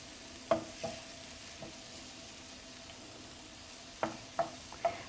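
Onions and green chilies fry softly in a pan for egg bhurji, a faint low sizzle punctuated by a few sharp clinks of a spatula against the pan near the start and end.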